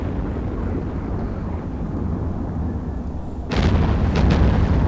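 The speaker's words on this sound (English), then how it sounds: "it's blowing up, and something's shooting at us" Deep rumbling explosions boom in the EVE Online space game, a steady low roar that suddenly swells louder and brighter partway through, with sharp crackling bursts of weapon fire on top.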